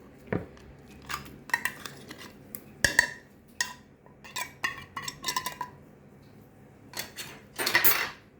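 Olive-oil-packed canned tuna is tipped into a skillet spinach pie filling, with close metal clinks, scrapes and cutlery taps on the can and pan, irregular and intermittent, ending in a brief louder clatter.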